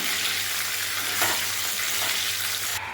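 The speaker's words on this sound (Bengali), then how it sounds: "ভাজাটা হয়ে এসছে পকোড়াগুলো, আর একটু বাকি আছে।" Chicken pakoras for chilli chicken fry in hot oil with a loud, steady, close sizzle that holds unbroken throughout, with no voices.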